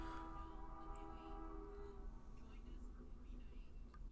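A passing train sounds its horn as a sustained tonal blast for about two seconds, heard faint and distant over a low, continuous rumble that carries on after the horn stops.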